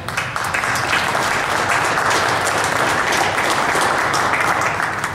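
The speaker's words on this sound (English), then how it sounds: "I want you to join me in applause for these people" A large audience at a flood press conference applauds continuously, a broad wash of clapping that stays loud and even throughout.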